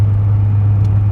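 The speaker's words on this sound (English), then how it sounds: "the truck is loud, okay? 5-inch exhaust, it's aggressive." A loud diesel LML pickup truck with a 5-inch exhaust drives along, giving a steady, deep droning engine rumble that holds at an even level throughout, with no talking.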